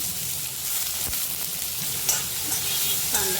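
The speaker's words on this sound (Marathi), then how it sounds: "त्यात एक चमचा जिरं टाकलं आहे बारीक कांदा कापला" Cumin seeds and finely chopped onion fry in oil in a kadai, a continuous close hiss and sizzle with a few faint stirring clinks, no voices.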